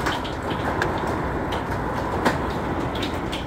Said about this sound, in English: Again, you can hear that hail hitting.